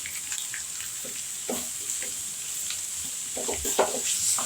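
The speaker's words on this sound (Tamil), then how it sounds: "இந்த எண்ணெயிலே நல்லா வதக்கி இதை எடுத்துடலாம்" Beetroot masala being sautéed in oil in a pan, with a faint steady sizzle and soft scattered stirring clicks throughout.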